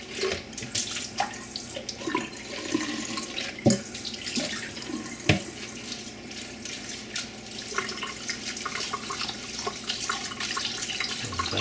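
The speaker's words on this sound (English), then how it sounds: "And we'll give these one more rinse." Tap water runs steadily into a jar of sprouting seeds during rinsing, a continuous close splashing stream with occasional knocks and gurgles against the glass.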